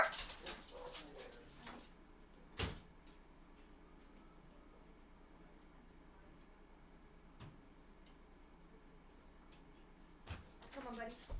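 A dog whimpering and giving a few sharp barks at the door after a delivery arrives, quiet and fairly distant, with scattered bursts of barking and faint ticking and shuffling between them.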